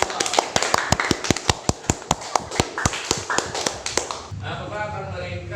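Students in a classroom clap in quick unison, a steady train of sharp claps for classmates who answered, ending abruptly as a voice begins talking.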